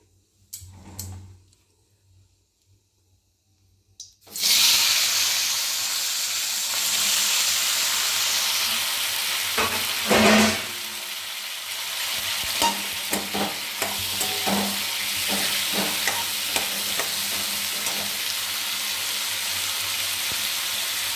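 Tomatoes hit a hot kadai for a Bengali tomato chutney: after a few quiet seconds a loud, sudden sizzle erupts and carries on steadily, broken by repeated scraping stirs of a spatula against the pan, close up and without talk.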